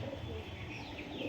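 Domestic pigeons kept as a hobby flock at a home in Nabadwip, cooing softly in a steady, low murmur with faint chirps, heard close by and alone without talk.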